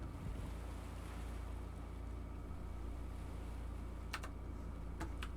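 A boat engine rumbles in a low, steady drone on open water in Stormworks: Build and Rescue, blended with wind and waves, and a few faint clicks break in near the end.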